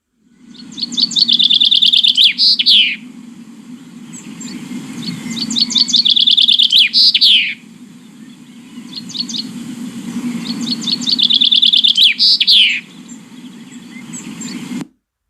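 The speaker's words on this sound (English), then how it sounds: "And the answer is the chaffinch." Three repeated chaffinch songs, each a bright descending run of chirps ending in a flourish, ring out clearly over a steady low background hum.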